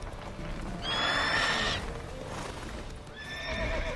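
A horse in The Witcher 3 video game lets out two loud, close whinnies with clip-clopping hooves running beneath, set against the game's ambient background.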